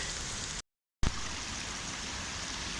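A waterfall at Kariong Brook Falls on the Great North Walk pours as a steady, loud hiss, broken once by a short gap of silence.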